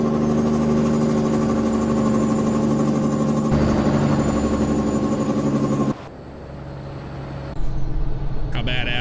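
A 600 hp Caterpillar truck engine in American Truck Simulator idles with a steady, loud diesel drone. Partway through it shifts to a rougher note, then quiets briefly before a burst of clatter and air-brake hiss toward the end.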